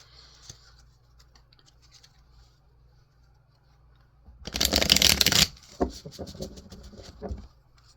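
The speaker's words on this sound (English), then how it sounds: "I'm going to just draw a couple of cards from here and see what we're looking at" Oracle cards from a Yin Yang Oracle deck by Lilith Designs are shuffled and drawn by hand, with a soft papery burst of rapid riffling in the middle, then several crisp separate card snaps. The rest is quiet, with no talking.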